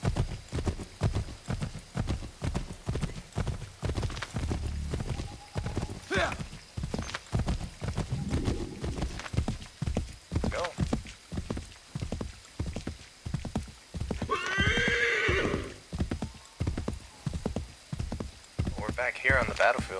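A horse gallops across a battlefield in Assassin's Creed 3, with steady rhythmic hoofbeats and a brief neigh partway through, while a voice talks over the action.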